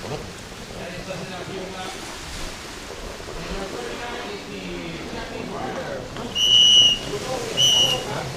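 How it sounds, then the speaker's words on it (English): Sharp referee whistles shrill twice in the distance at a personal watercraft racing event, amateur Runabout 1100 stock class, heard over steady surf and wind noise with a commentator talking throughout. "You can hear the whistles in the background"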